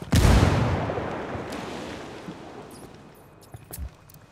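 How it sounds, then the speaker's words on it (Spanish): A grenade blast in the Ghost Recon Wildlands video game booms loudly at the start, then its rumble slowly decays, with a couple of smaller distant pops following near the end. "Nos siguen tirando granadas y porquerías."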